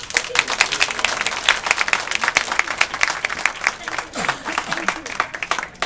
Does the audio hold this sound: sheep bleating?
no